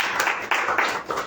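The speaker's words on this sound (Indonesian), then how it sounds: "Beri tepuk tangan lagi buat Tuhan Yesus" A church congregation applauds at a service, a short burst of several rhythmic clapping pulses, moderately loud and close, with no speech over it.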